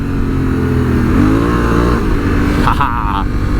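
Honda Africa Twin adventure motorcycle, 2022 model, revs steadily while sliding through a drift, its engine note rising and falling loud and close under wind roar, with a rider's voice over it.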